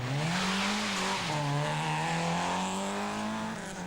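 A 1.9-litre Peugeot 205 rally car, driven in a 1988 rally, gives a loud, close engine note that rises and dips with gear changes, running continuously without speech.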